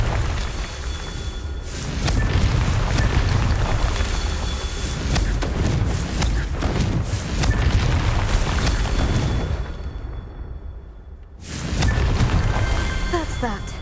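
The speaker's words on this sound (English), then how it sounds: "This is the one where we just like blow them up." Confringo fire-spell blasts in Hogwarts Legacy, loud roaring explosive bursts that fill most of the stretch, with a short drop near the end before another blast, over someone talking.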